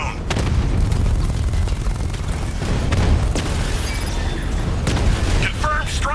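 A bomb striking a drone in Batman Arkham Knight, a loud, close explosion with crackling debris and a rumbling tail, sustained booming throughout, with speech mixed in.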